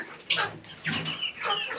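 A chicken clucks in three short, soft bursts nearby, with no other sounds.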